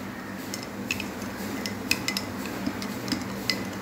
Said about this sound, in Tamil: இப்போ இதை நம்ம நல்லா மிக்ஸ் பண்ணிக்கலாம்.